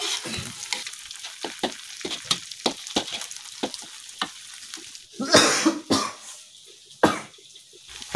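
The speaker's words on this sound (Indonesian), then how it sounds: "Katanya bekas menggoreng cabai jadi batuk" Chili sizzles and crackles in a frying pan with occasional stirring scrapes, then a few sharp, close coughs from the pungent fumes break through the steady frying.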